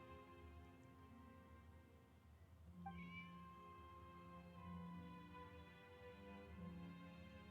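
Cat meows from the video game Genshin Impact, a few short calls over steady game music, with no talking.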